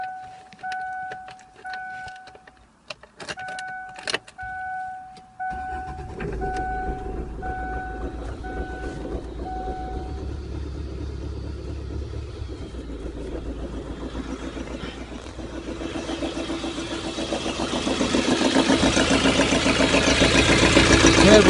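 Warning chimes beep in a repeating pattern before a repaired starter cranks a 2003 Kia Carens engine to life, which then settles into a steady idle that grows slightly louder and rougher.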